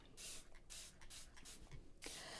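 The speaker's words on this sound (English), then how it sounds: "I'm going to just use my spray bottle and try not to spray my inks, but spray my watercolor paper" A hand spray bottle mists watercolor paper in about six quick bursts, each a soft, close hiss separated by short pauses, with no talking.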